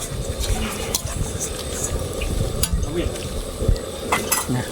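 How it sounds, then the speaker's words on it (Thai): Meat sizzles and hisses in a hot pan as it is stir-fried for larb, while a utensil scrapes and clicks against it in irregular strokes, with steady frying noise throughout. "น้ำเดือดเราก็รวนเลยครับทีนี้"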